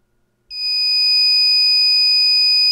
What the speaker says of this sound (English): MedReady's powerful alarm will be activated when it's medication time.